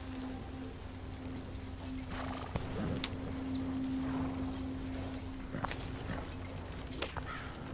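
Horses gallop through trees in Red Dead Redemption II, with rhythmic hoofbeats clip-clopping beneath a low steady game hum, interspersed with a few sharp impacts and faint animal-like calls.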